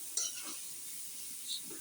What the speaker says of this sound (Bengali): এখন সবজিটা একদম বেশি স্পিডে জাল দিয়া ভাজিয়ে নিতে আছি হালকা করে।